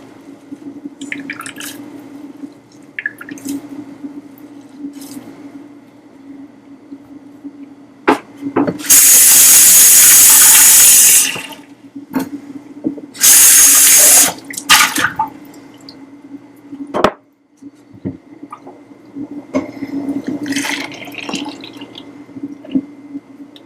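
A kitchen tap gushes in two loud bursts while a container is rinsed out, with softer drips and handling clatter between them and a steady low hum underneath.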